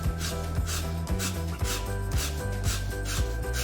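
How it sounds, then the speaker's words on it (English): A lime being zested on a hand grater in a kitchen while making prawns with satay sauce, giving a steady run of close, rhythmic rasping strokes over a constant low background hum. "We'll get our grater again and we're going to zest our lime."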